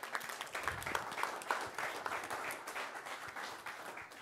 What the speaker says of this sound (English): So I'm going to ask you again to give a round of applause.